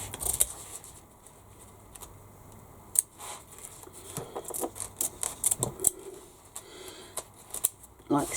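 Foam being cut with scissors while making an Antonella bag: a series of short, crisp snips and rustles at irregular intervals, close up, with occasional handling noises between cuts.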